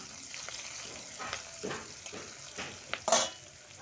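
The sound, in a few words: onion and green chilli frying in oil with cumin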